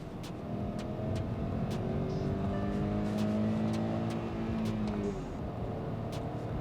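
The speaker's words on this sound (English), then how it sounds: "So this is the 1-liter turbo petrol engine" A 2022 Hyundai Venue's 1-liter turbo petrol engine revs up steadily under acceleration, its rising drone and harmonics climbing in pitch, loud and close throughout.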